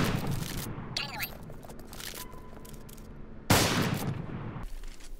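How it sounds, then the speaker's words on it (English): Gunfire in the tactical shooter CSGO, heard as a few sharp shots and short bursts through walls, with a loud burst near the end, alongside speech and quieter game noise. "I shoot through walls without even seeing in the game through walls"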